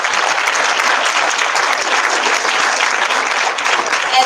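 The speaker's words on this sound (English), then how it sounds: "let's give a round of applause for your parents" Audience applause for parents at a school moving up ceremony, steady dense clapping from a crowd that holds at full strength throughout, close and loud.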